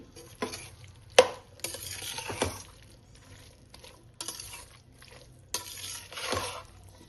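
Jackfruit and mushroom pieces being stirred through masala in a pot for a one-pot biryani, with scraping spoon strokes against the metal and a soft sizzle beneath, coming in several separate bursts.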